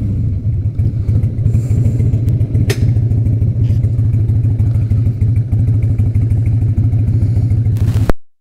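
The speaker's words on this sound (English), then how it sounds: "Picking up the Sportster." Harley-Davidson Sportster motorcycle engine idling close by with a steady, low, thumping rumble and some mechanical clatter, running evenly before cutting off abruptly at the end.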